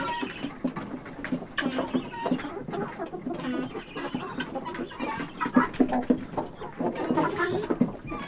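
Brahma chickens clucking and fussing at morning feeding time on a farm, a busy chorus of overlapping clucks and squawks, near and fairly loud with no talk.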